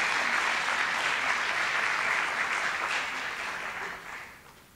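Audience applause at a business talk fills the room in a dense, steady wash of clapping that gradually thins and fades away toward the end.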